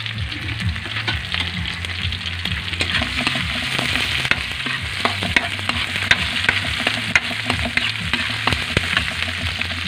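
Squid adobo (adobong lukos) frying in a pan while being stirred, with a steady close sizzle and repeated scraping, clattering strokes throughout and no talking.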